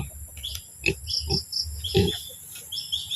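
Pigs on a farm grunt and oink in short, scattered bursts while being fed at close range, with a few faint bird calls in the background.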